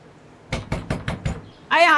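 Five sharp knocks on a door in a steady, evenly spaced rhythm, close and loud, followed at the end by a voice calling out.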